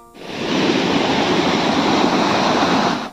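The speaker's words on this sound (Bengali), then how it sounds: "ঝর্ণার কি আওয়াজ!" A small artificial waterfall in the Dalma Wildlife Sanctuary: loud, steady rushing water rises quickly and holds as an unbroken close roar, with no voices.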